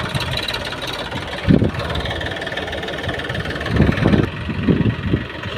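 A tractor engine idles with a steady mid-pitched rumble, broken by a few heavier low thumps and knocks as it runs close by.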